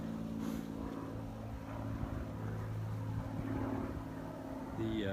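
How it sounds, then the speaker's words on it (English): A steady low engine drone fills the whole stretch, like a small propeller plane circling over a neighborhood at a distance. "let the airplane go by"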